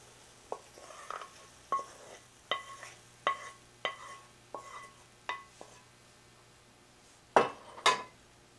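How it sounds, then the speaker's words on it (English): Pasta is tossed with sauce in a pan, giving a rhythmic run of light metallic clinks and scrapes, then two louder clatters near the end, with no talking. "when all of the flavors have blended, you're going to toss your pasta"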